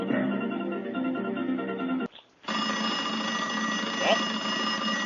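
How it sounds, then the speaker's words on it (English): Telephone ringing in a home, a steady electronic ring lasting about two seconds, a short pause, then a second ring, loud and close with no speech over it. "Grab the phone here. See who's calling."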